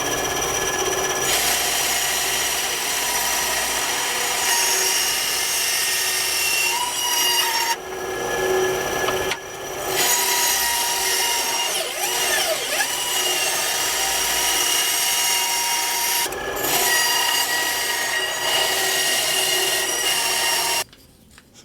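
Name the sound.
bandsaw cutting out wooden knife handle scales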